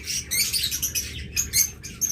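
Pet birds in a bird shop chirp in quick bright bursts, several high twittering calls overlapping close by, with short pauses between flurries.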